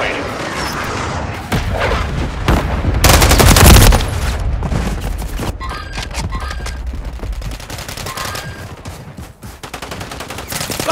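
Call of Duty: Modern Warfare III gunfire, with loud rapid bursts of automatic rifle fire and a heavy boom near the start, then continuing close volleys and mechanical clatter, with voices speaking in the mix.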